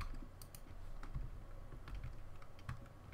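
Steady clattering of computer keyboard typing, quiet and close, with irregular key clicks and a few louder strikes, no talking.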